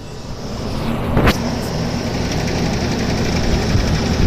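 A vintage box fan on a stand runs on high, giving a steady close whooshing hum with a light mechanical rattle underneath and one brief sharp click early on.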